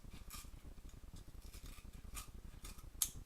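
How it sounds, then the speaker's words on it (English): Scissors snip a model rocket part to shape in a steady run of quick, faint close-up cuts, a soft rapid clicking with no talk. "going to have to cut it to shape."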